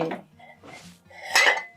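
Ceramic plates in a Paris apartment, including Astier de Villatte and antique pieces, are handled close by: a few separate clinks and clatters in quick succession, louder at the end, with no voices.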